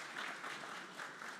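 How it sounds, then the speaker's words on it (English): An audience at an opening ceremony claps in a brief, steady burst of applause that fills a large room at moderate volume, with no voices over it. "A round of applause is in order, if you may."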